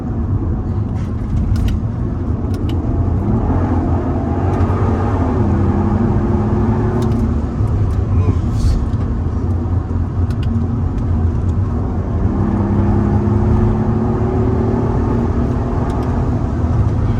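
A Mercedes SL65 is on the move, its engine a steady, loud low drone with gentle rising and falling pitch as it accelerates, heard from inside the car with constant road rumble.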